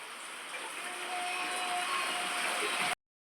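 Steady monsoon rain pouring down near a farm field, a dense, even hiss that holds constant before cutting off abruptly near the end.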